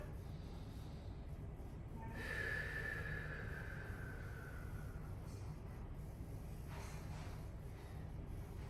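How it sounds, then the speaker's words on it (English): A deep breath drawn during a hip mobility stretching session, one audible airy inhale in the middle followed by a softer exhale, close and quiet over low room hum. "Another deep breath."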